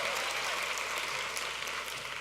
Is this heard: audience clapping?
yes